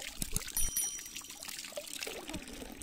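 Hot spring water running from a roadside fountain in an orchard area, a soft continuous pour and trickle at moderate distance, with faint outdoor background noise.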